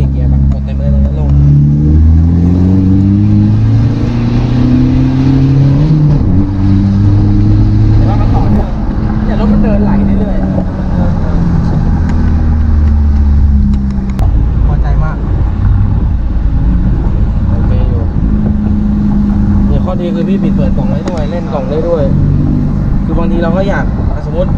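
Car accelerating at full throttle in third gear, revved to about 4,000 rpm before shifting, a loud in-cabin engine drone climbing in pitch then dropping at the gear change, with people talking over it.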